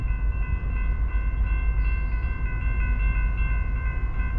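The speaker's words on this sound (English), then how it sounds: "Look how close that train is." A Union Pacific 7828 locomotive leads a Norfolk Southern freight train past a grade crossing close by, a loud steady rumble with sustained tonal whine and rolling wheel noise throughout, no talk.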